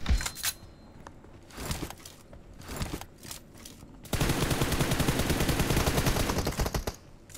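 Gunfire in a mobile shooting video game: scattered single shots and short bursts, then a long sustained automatic volley, loud and close throughout.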